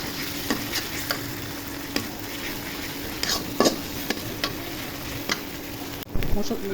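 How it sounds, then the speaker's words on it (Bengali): Ginger-garlic paste frying with onions in hot oil for a Bengali koi fish curry with potato and cauliflower, a steady close sizzle broken by sharp spatula scrapes and clicks as it is stirred, with a louder burst near the end. "আদা রসুন বাটা দিয়ে ভেজে নিব।"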